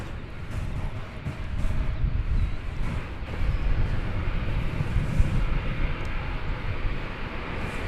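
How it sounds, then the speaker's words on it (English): Boeing 787-9 Dreamliner, American Flight 34 arriving from Auckland at DFW Airport, a steady broadband jet roar with wind buffeting, moderately loud and unbroken, no talking. "here comes the morning flight from Auckland, New Zealand. It's American Flight 34, 7879 Dreamliner"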